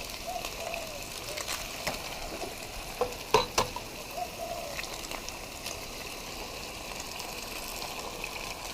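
Eggs frying in a pan for a Spam-and-eggs meal: a continuous soft sizzle with scattered pops and light clinks, fairly close, with no talk.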